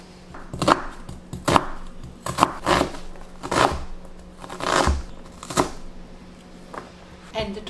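A knife chops garlic, onion and other vegetables on a board in a series of about nine close, crisp strikes at an uneven pace, with a low, steady background tone running underneath.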